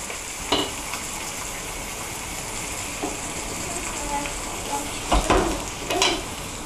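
Soffritto with rabbit sizzles steadily in a pan, close and continuous, while a utensil stirs it with occasional scraping clacks; a voice speaks faintly over the frying.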